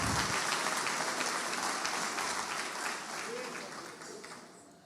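A church congregation at a Christmas service claps together in a continuous, full burst of applause that gradually softens toward the end, heard at a modest distance.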